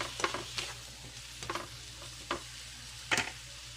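Tomatoes cooking in a pan for pakbet are stirred with a utensil, giving several sharp scraping strokes at irregular intervals over a faint, low sizzle, close and fairly quiet, with no talk.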